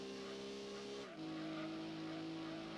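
A Kei-car's racing engine in Gran Turismo 2 drones steadily and loudly on its own, with a brief dip in pitch around a gear change before the tone settles again, joined by faint tire squeal.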